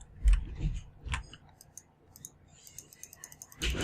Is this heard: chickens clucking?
no